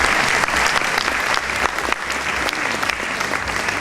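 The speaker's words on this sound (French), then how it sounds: "Merci de l'applaudir." An audience claps steadily at the Miss Lorraine 2013 pageant, a dense, continuous burst of applause from a crowd that holds at full volume throughout.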